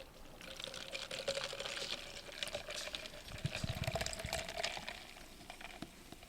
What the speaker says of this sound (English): Let's hear that pour.